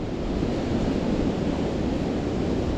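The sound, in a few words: wind blowing on a countryside walk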